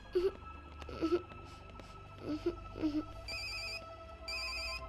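A telephone rings in two loud, repeated electronic bursts near the end, after a few soft vocal sounds and some quiet room noise.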